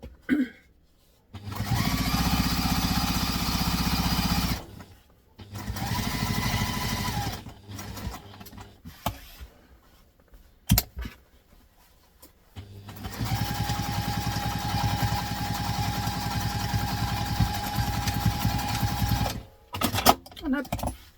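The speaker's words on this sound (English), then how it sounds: "I'm going to make sure I really do start and stop on the back stitch there" A sewing machine stitches a backpack, with loud bursts of running and back stitching broken by short pauses and some handling. Someone talks quietly between the runs.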